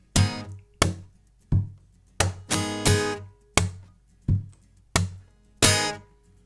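Sharp percussive acoustic guitar strums and fingertip slaps above the sound hole, about ten hits in a loose rhythm, each ringing briefly before the next, close and clear.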